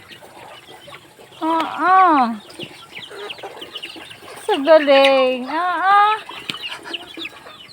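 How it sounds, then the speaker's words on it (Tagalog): Several chickens cluck and squawk close by in bursts as they are hand-fed grain, with a person speaking intermittently among them. "Daming manok"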